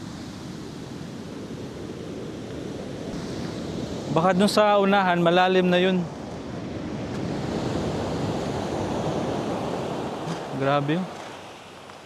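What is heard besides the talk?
strong sea waves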